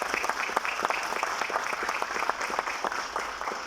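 An audience at a ceremony honoring Dr. Carlos Salcedo gives a round of applause for Dr. Bruno Rosario Candelier, a dense, steady wash of many hands clapping that fills the whole moment without any speech.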